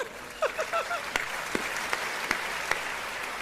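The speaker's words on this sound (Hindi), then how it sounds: "पीछे तालियां जरा अच्छी बज जाए" Clapping from the audience at a Hindi comedy poetry show, moderate and continuous. A few sharp, louder claps stand out above the steady patter, and brief voice-like sounds come early on.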